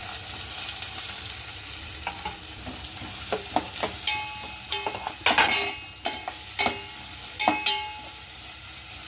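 Green chilies drop into garlic and onion frying in a pan for a moringa-leaf stir fry, setting off a steady sizzle with bursts of sharper crackle and a few clinks of a stirring spoon.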